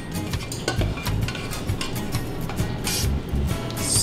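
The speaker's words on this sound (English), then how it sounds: "Stir it up" Pasta noodles being stirred into a homemade six-ingredient sauce in a bowl, giving soft wet squelches and light utensil scrapes and clinks in an irregular rhythm, close and moderately quiet.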